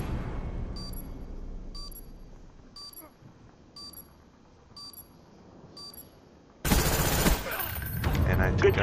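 A burst of dense, loud gunfire erupts in a Call of Duty Black Ops Search and Destroy match, following a run of regular electronic beeps from an armed bomb.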